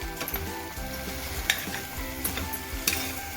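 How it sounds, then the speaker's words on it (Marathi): An eggplant and tomato curry is stirred in a pan over heat: a quiet, steady sizzle broken by a few sharp scrapes and clinks of the spoon against the metal. "आणि त्याच्यानंतर थोडं मिक्स करायचं आहे."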